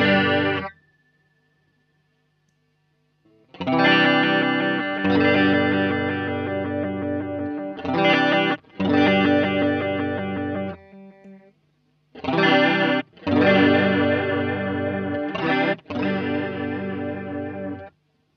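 Electric guitar played through a JHS Emperor chorus vibrato pedal, with its triangle, square and sine waveforms compared: loud, shimmering, warbling strummed chords in several separate bursts, broken by short silences and no talking.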